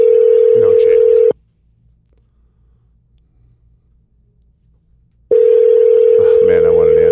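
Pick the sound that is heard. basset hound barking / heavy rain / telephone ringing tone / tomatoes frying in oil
telephone ringing tone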